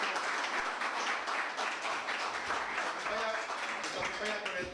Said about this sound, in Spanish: voy a pedir un aplauso